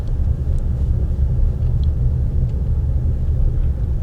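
Steady, loud low rumble of a Disney Minnie Van car cruising at Walt Disney World, heard from inside the cabin as continuous road and engine noise with no talk.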